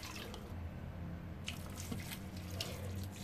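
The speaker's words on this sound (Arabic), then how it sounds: "بعد ما صفيناهم بالطنجرة ححط فوقها مي، مي عادي من الحنفية" Ordinary tap water runs steadily from a faucet into a pot holding boiled, drained corn cobs, making a continuous splashing rush throughout.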